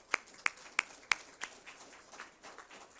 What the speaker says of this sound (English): So students, clap for your parents,